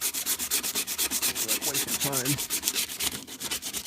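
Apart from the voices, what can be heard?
sanding Durango car body with 100 grit sandpaper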